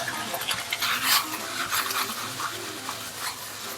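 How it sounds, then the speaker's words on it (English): Beef tossed into a hot wok while cooking dry fried beef hor fun, with a busy scraping and sizzling clatter of a spatula against metal, steady and close with a few sharper knocks. "Now I add in the beef."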